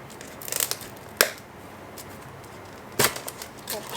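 Tape pulled off the bottom of a plant delivery package: a few close crackling rips and sharp snaps with quiet handling between, recorded indoors without talk.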